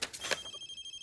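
A telephone rings in short, bright electronic bursts that quickly trail off, brief and fairly faint, with no talk.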